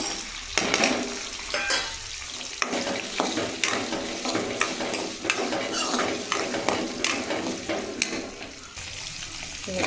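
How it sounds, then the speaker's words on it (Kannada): Masala for a chicken green gravy fries in oil while a spoon stirs it, giving a continuous sizzle broken by frequent clinks and scrapes against the pan, close and fairly loud. "ಇದನ್ನೆಲ್ಲ ಮೊದಲೇ ಫ್ರೈ ಮಾಡ್ಕೋಬೇಕು"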